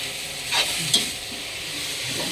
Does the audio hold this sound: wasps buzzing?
no